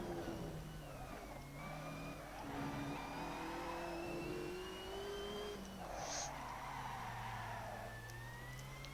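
A racing car engine in the Assetto Corsa video game whines and shifts pitch while tires skid and squeal as the car loses grip, with a brief high screech partway through.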